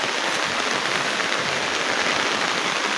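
Steady rain pours down without a break, a dense, even hiss of drops close by with no voices over it.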